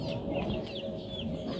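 Rhode Island Red chickens cluck softly on a chicken farm, several birds murmuring and chirping over a steady low background rumble.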